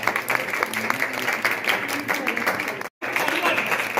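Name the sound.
loud applause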